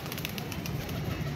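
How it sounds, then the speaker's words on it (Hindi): Pigeons released from their coop cooing, soft low throaty burbles under steady background hiss and faint distant chatter. "सारे कबूतर शबूतर खोल दिए हुए हैं माशाल्लाह"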